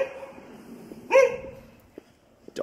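A dog at a suburban home with a one-car garage gives a single sharp bark near the middle, followed by a couple of faint yips against a quiet outdoor background.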